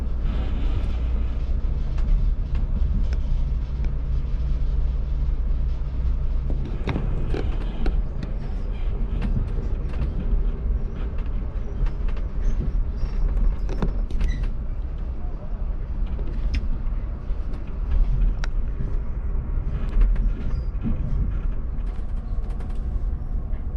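Amtrak Coast Starlight train rolling slowly into Los Angeles Union Station, with a continuous low rumble, creaks and metallic rattles from the carriage, heard from inside the car throughout.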